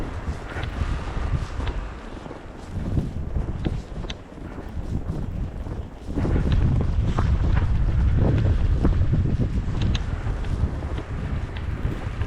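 Strong wind in a Canadian snowstorm buffets the microphone with loud, gusty roaring and rumbling that swells and surges, growing heavier in the second half, with no talk over it.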